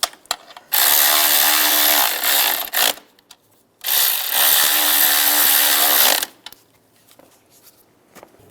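A ratchet socket wrench with a 10mm socket turns on a 2007-18 Jeep Wrangler engine during a spark plug replacement. Two long, close bursts of rapid clicking ratcheting are separated by short pauses, followed by quiet handling noises.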